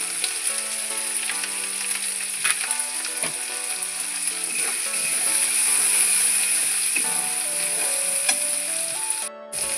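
Turmeric powder added to cumin and ginger paste sizzles steadily in a hot pan of frying spices, a continuous close crackle for vegetarian potato curry with asafoetida, with occasional stirring clinks and no talking.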